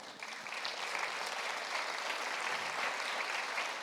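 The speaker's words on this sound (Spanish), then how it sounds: "Démosle ese aplauso al Señor." A church congregation applauds for the Lord during a sermon, a dense, steady wash of many hands clapping that swells slightly in the first half second and then holds evenly throughout, with no voices over it.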